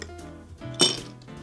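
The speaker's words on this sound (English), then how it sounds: "we're gonna take a little bit more of our ice cubes here, and we're gonna put it into our rocks glass" Ice cubes tumbling into a rocks glass while a Negroni is being made: one sharp bright clink near the middle of a quiet stretch, close by and brief, with a faint low rumble under it.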